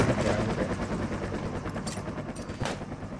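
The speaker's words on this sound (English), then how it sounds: "chopper." A helicopter flies overhead in a shooter video game, its thudding rotor churn dense and loud amid bursts of gunfire, no voices heard.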